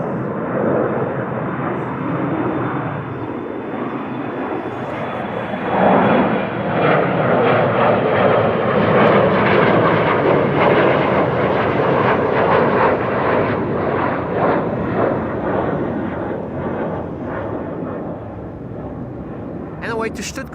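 An Air China Cargo aircraft bound for Stuttgart at Amsterdam Schiphol Airport: a loud, rolling engine roar that swells through the middle and slowly eases, close and continuous, with speech underneath.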